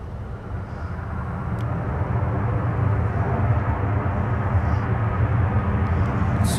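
A Delta wide-body airliner arriving from Charles de Gaulle on short final at MSP airport gives a steady, broad engine roar that builds slightly and holds loud throughout, with no voices over it.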